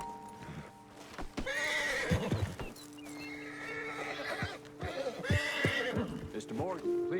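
Horses whinny and neigh several times in a video game, with clip-clop hoofbeats as riders dismount on a ledge above a road, and a voice talks among the animal calls.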